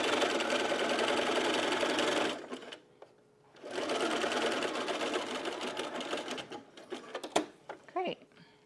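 A home sewing machine runs a quarter-inch seam on a bralette in two long steady bursts of stitching, with a short pause between them, then slows and stops in a few uneven spurts at close range.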